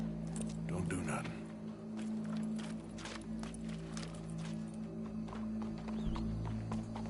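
Horse hooves clop with a brief whinny in the video game Red Dead Redemption 2, close and steady under game music and a low hum, with voices talking over them.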